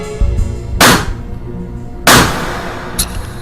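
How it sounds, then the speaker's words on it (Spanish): Two loud, sharp gunshots fired at close range into a ballistic gelatin block, about a second apart, each a sudden crack with a short decaying tail, followed by a fainter third impact, with no talking. "El disparo se efectúa de cerca"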